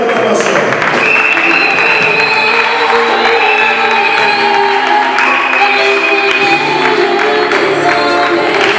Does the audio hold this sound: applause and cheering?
yes